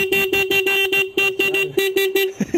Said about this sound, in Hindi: बजाइए था हॉर्न बजाइए।